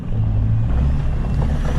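A Duramax diesel truck fitted with a big turbo rumbles loudly and close, a deep, dense engine roar held steady for a couple of seconds with no talk.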